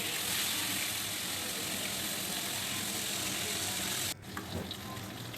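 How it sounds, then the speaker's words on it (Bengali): Fish sizzles steadily as it fries in hot oil in a pan, a dense continuous crackle that cuts off abruptly near the end, leaving quieter kitchen noise with faint clatter. "এবারে আমি মাছটাকে লাল লাল করে একটু ভেজে নেব।"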